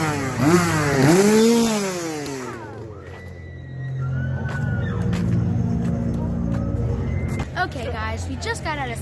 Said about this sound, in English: ignore the chainsaw